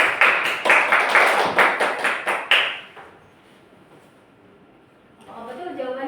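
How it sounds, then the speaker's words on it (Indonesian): A classroom of students claps for a classmate who answered correctly, a burst of quick, close, overlapping hand claps lasting about three seconds, followed by a quiet room and then a voice speaking. "Beri tepuk tangan untuk teman kalian."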